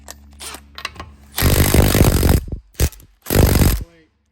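Cordless power tool with a nearly dead battery working loose a bolt on a drift wagon build, two loud bursts of rough mechanical rattling with short pauses, people talking in the quieter gaps.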